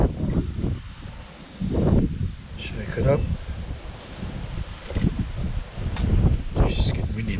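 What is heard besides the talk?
wind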